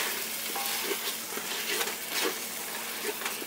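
Coriander and mint leaves being stirred into a sizzling mushroom biryani masala, a steady frying hiss with soft periodic scraping strokes of the spoon, close and continuous.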